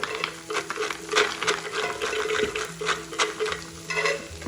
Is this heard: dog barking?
no